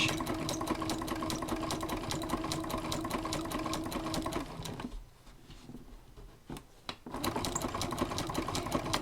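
A sewing machine stitches a sashing strip onto a quilt, a rapid even needle chatter that pauses briefly midway, then resumes at the same steady pace, quiet and close.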